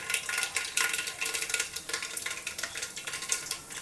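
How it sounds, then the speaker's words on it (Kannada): Mustard seeds and cumin crackling in hot oil for a hyacinth bean curry tempering, a dense close run of rapid pops and spits over a continuous sizzle, with no talking. "ಸಾಸಿವೆ ಚಿಟಪಟ ಅಂತದಂಕಲೇ ಒಂದು ನಾಲ್ಕು ಕಾಳು ಜೀರಿಗೆ ಹಾಕ್ರಿ"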